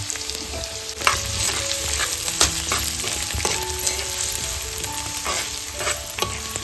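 Onion, garlic and curry leaves frying in oil on a tawa, a bright close sizzle with spatula stirring and scraping clicks throughout, steady and unbroken by speech.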